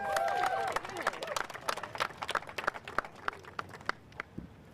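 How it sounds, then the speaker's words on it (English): Scattered handclaps from an audience at a memorial vigil for the Florida State University shooting, starting as a light patter and thinning to a few separate claps, with crowd murmur and background noise underneath. "Let's give her a clap. Give her a lot of applause."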